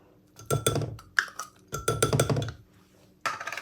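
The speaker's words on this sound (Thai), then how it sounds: "กะปิ นี่โขลกลงไปเลยนะคะ" Shrimp paste and mango salad ingredients (chili, shallots, tomato, mango) being pounded in a mortar, heard as a few close, sharp clinking and thudding strikes in two bursts, with a pause between them.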